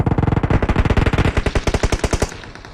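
Rapid automatic gunfire in the game PUBG Mobile, a fast close burst of about thirty evenly spaced loud shots that thins out at the end, no talking.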